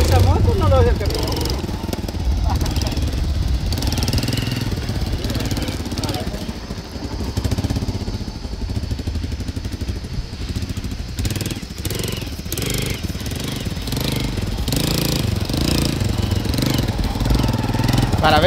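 A motorcycle engine runs loudly and roughly, revving and sputtering unevenly, with people talking over it.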